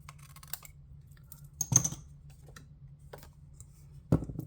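Cardstock trimmed for a handmade stamped card, with a couple of soft, brief cutting or trimming snips standing out against a quiet background with faint tapping.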